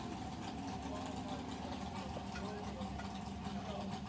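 A Westbury fire department truck idles nearby at a drill team competition, a steady low mechanical rumble with constant loudness, and faint voices are just audible.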